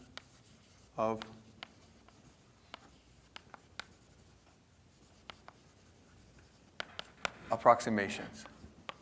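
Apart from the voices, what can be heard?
writing on a board during a lecture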